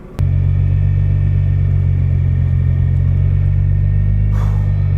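A Nissan GT-R engine held at a steady high rev for launch control, starting abruptly and sustaining a loud, constant droning rumble with a brief extra burst near the end.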